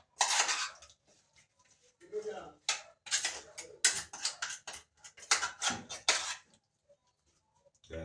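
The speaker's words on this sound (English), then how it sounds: "So guys, we're gonna stir it." A pot of Jamaican-style brown stew chicken wings being stirred: a spoon clanks and scrapes against the pot close up in uneven bursts between stretches of quiet, with a voice speaking at times.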